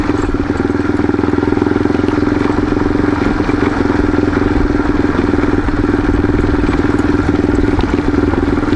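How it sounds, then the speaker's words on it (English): A motorcycle engine idles steadily and close by throughout an off-road trail ride, a continuous low, even throb with no revving and no voices. "I'm usually idling like I am now"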